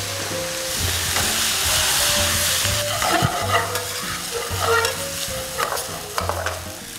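Pasta tossed with radicchio in a hot frying pan makes a loud, steady sizzle under repeated stirring and scraping, with a low steady hum in the background and no talk.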